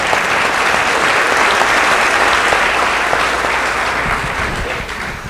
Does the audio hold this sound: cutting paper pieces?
no